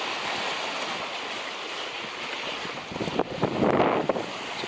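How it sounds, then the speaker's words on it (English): An ocean wave rolls toward a sailboat at sea, a steady wash of water and wind noise that swells into a louder splashing surge near the end. "Pretty decent wave coming"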